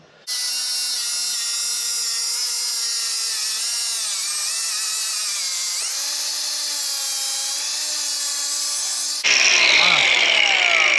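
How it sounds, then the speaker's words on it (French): Angle grinder rounding the edge of a red plastic fog light piece, a loud sustained high whine with shifting pitch as it bites, then a rougher, harsher grinding burst near the end. "Le petit arrondi avec la meuleuse."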